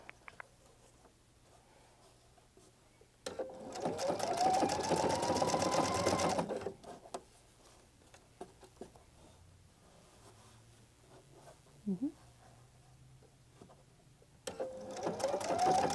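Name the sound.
Pfaff Creative Icon sewing machine stitching a braid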